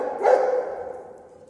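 A dog on a night-time pet-care round gives one short, fairly close bark that trails off into a brief moan, with no talking.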